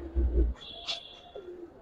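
A racing pigeon gives one brief, low cooing note at the start, followed by faint higher chirps, with quiet room ambience behind.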